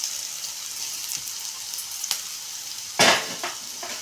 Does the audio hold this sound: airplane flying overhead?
no